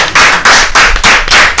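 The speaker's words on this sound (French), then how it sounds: "Merci de les applaudir" An audience claps loudly and close by in rhythmic unison, with about five strong bursts beating at a quick, regular pace.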